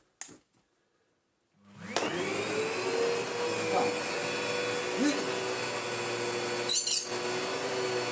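A Sebo Felix Premium Eco upright vacuum cleaner with its brush roll fitted starts with a click, spins up, and settles into a loud, steady whine and rumble close by, with a few faint knocks during the run.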